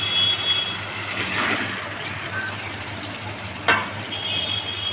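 Raw fish sizzling as it goes into hot oil in a pan for a yogurt fish curry: a steady, close frying hiss with a brief clatter near the end.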